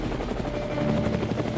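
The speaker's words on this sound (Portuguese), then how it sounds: "deu aquela prensa de helicóptero rodando lá por cima de casa e bem baixinho" A helicopter flies low overhead, its rotor chopping in a fast, steady pulse that stays loud and close throughout without a break.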